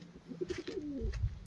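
Fancy pigeons in their cage cooing, a short soft run of low throaty coos close by.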